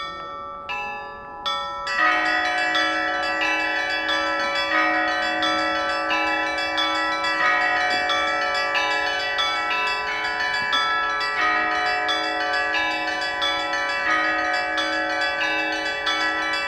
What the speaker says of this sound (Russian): Ирма, звонарь Свято-Никольского храма, сейчас на малой звоннице вам исполнит вседневный звон.